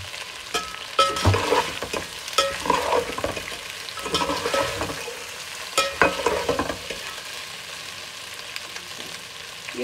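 Boiled macaroni being stir-fried in a pan with black pepper, a continuous loud sizzle broken by repeated scraping and clattering stirs, with no voices.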